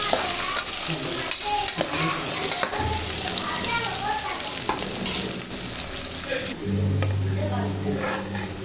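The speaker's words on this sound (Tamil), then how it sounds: "நல்லா ப்ரௌனாக வர வரைக்கும் நல்லா டீப் பண்ணு." Biryani ingredients frying and being stirred until browned, a loud close sizzle with frequent spoon scrapes against the pot and a voice talking over it at times.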